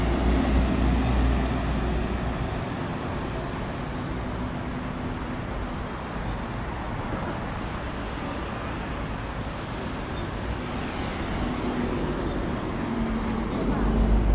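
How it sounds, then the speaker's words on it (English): City buses and other traffic on a Seoul street, a steady, dense low roar of engines and road noise that continues throughout without letting up. "So many bus."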